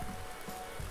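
Steady, soft rain falls outdoors in rural Thuringia on a morning when snow was expected, a faint, even hiss lasting about a second with no voices.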